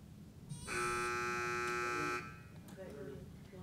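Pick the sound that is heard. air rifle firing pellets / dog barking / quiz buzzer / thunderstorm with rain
quiz buzzer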